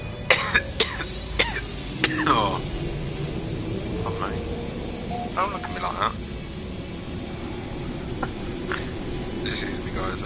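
A person coughs several times in quick, sharp bursts near the microphone at the start, followed by quieter background sounds and some talking.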